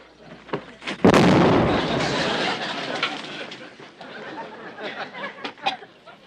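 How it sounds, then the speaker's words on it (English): A grenade goes off in a wartime TV comedy: a sudden loud blast followed by a long rumbling, crackling decay, with scattered knocks and noises afterward. "I just pulled a pin in this grenade, and you know what that means."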